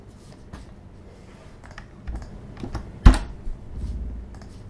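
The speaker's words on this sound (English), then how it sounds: "If I could learn how to type, that would be good." Typing on a computer keyboard at a desk, a run of soft close key taps with one louder clack near the middle, no talking.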